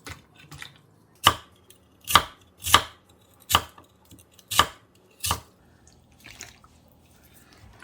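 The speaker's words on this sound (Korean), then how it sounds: "연근은요 이렇게 이제 썰어서 물에 담그세요" A knife cuts lotus root into slices on a cutting board, giving about six crisp, evenly spaced chops with short gaps between them, close up with little background noise.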